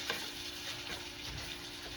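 Meat browns in a hot pan for loco moco, giving a steady close sizzle with faint scraping or stirring over a low hum, and no voices.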